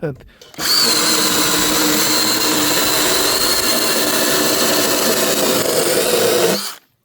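A jigsaw blade saws through 33 mm chipboard with a loud, steady, continuous whine that starts abruptly, holds for about six seconds and cuts off sharply.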